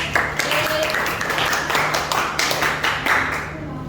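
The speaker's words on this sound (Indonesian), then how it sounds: "Oke, tepuk tangan buat kelompok" Classmates in a school guidance lesson clap for a student group, a dense, steady patter of many hands filling the room, with a faint voice underneath.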